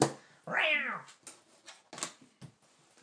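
A cat meows once, a drawn-out rising and falling cry, as a sound effect in a Christmas memory match game, followed by several short clicks and taps.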